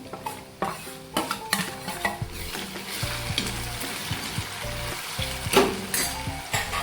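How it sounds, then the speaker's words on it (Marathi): Tomatoes go into browning onions in a pan for Khandeshi sour chuka bhaji, loud frying sizzle with repeated spoon stirring and scraping against the vessel, close and without talk. "कांदे पण थोडेसे ब्राऊन झाले मी आता टोमॅटो घालून घेते"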